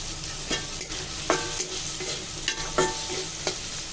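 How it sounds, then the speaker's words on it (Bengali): Chicken pieces fry with soy sauce and chili in a pan, giving a steady sizzle broken by repeated scraping stirs at a close, even pace. "চিকেনটা ভাজা হয়ে গেছে।"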